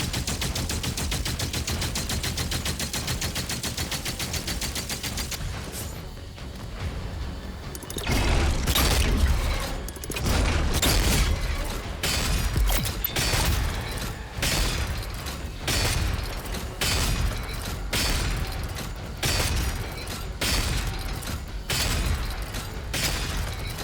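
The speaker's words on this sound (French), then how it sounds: "on va vider un peu de munitions" Heavy rapid gunfire from the video game DOOM The Dark Ages rattles out in long dense bursts, loud and constant, with booming impacts layered over a driving game soundtrack and no speech.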